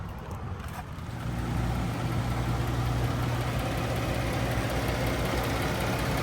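A 2019 Kia Sorento SX with 96,000 miles runs smoothly under the open hood, giving a steady close engine hum that swells slightly after the first second and holds even.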